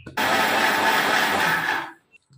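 A grinder roars loudly as it pulverizes semolina and dates into powder, a dense whirring burst lasting under two seconds before cutting off abruptly.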